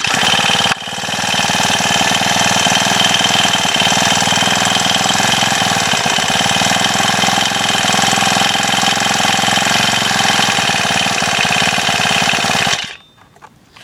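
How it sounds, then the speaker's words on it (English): A small four-stroke tiller engine runs loud and close in cold weather, a steady rough chugging drone that holds for most of the clip before cutting off abruptly near the end. "I'm not going to sit here all day and let it warm up, but It's a cool little tiller."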